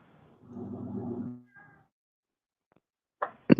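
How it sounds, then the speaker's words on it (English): A house cat yells with a loud, drawn-out meow of about one second, followed after a pause by a brief softer call and a few sharp noises near the end, with no talk over it. "My cat is yelling at me."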